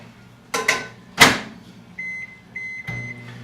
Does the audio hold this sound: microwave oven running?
yes